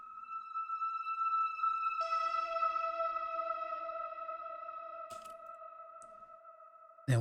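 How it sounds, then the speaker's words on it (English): Layered atmosphere-hit sound effects for a melodic future rave track: faint sustained tonal drones that shift pitch partway through, with brief noisy bursts near the end and a sudden hit at the close. "And then we have these atmosphere hits."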